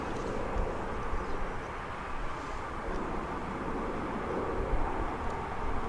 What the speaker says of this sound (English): This United Airlines plane